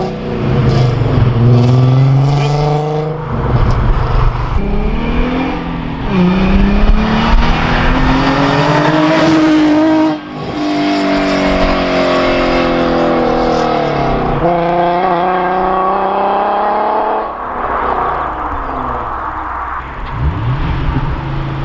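Nissan 350Z fitted with long tube headers revving hard: repeated loud, raspy rises and falls in engine pitch, a few sustained high-rpm pulls and a brief cut, heard very close and with no talking.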